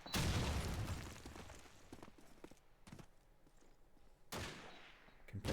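Gunfire and grenade blasts in Call of Duty 2 during a competitive match: a heavy burst opens, then scattered sharp shots and bursts, quieter through the middle, with another loud volley near the end.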